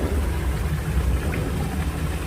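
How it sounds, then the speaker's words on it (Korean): Water rushes loudly and continuously through a landscaped garden with stacked landscaping stones and pine trees, a steady close roar with no pauses. "아주 물소리가 요란하게 나고 있습니다."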